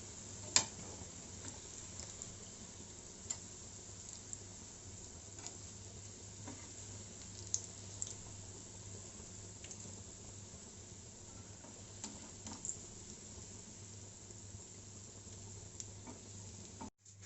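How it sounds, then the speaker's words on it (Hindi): Malai koftas fry in hot oil with a steady, quiet sizzle and scattered faint ticks and pops throughout, close by and with no voices. "ये सारे कोफ्ते फ्राई होकर तैयार हो गए हैं।"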